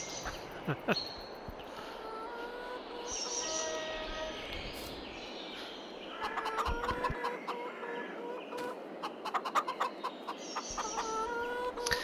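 Chickens clucking and squawking in Farming Simulator 22, scattered calls over a steady low background hum.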